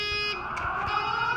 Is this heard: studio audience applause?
no